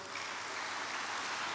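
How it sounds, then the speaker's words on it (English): An audience at a youth leaders' assembly claps steadily, a dense even wash of applause lasting a brief moment with no break or voices. "can we give another warm applause"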